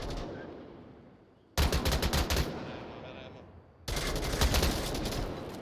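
Rapid bursts of gunfire in the VR shooter Onward, played in a competitive match, come in two loud strings of close shots with quieter ambience between them.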